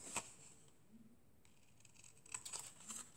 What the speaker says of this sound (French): Donc je coupe au ciseau.